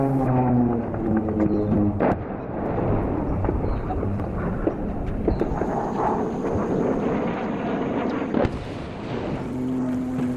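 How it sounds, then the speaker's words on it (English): Airstrike explosions in the war-torn city of Marawi, a continuous low rumbling roar with thunder-like booms and wind noise, sustained and dense throughout with a sharp burst near the middle. "Over 4 days in Marawi, we watched airstrike after airstrike."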